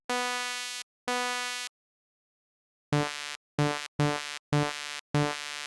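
Modular synth in VRChat sounding through a high-pass filter, giving bright buzzy tones: two long notes, a pause, then five shorter pulses in quick rhythm, clean and alone with no voices.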